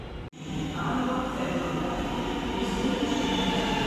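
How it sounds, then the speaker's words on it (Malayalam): A Kochi metro train rolls into a station bound toward Aluva, a steady rising rumble and hum of wheels and motors that grows louder and holds after a sharp click at the start. "നമുക്ക് പോകാനുള്ള ആലുവ സൈഡിലേക്ക് പോകാനുള്ള മെട്രോ ഇപ്പോൾ വരും"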